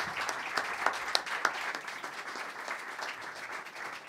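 Applause from a live concert audience, a dense continuous patter of many hands clapping with a few sharper individual claps standing out early on, fading slightly toward the end.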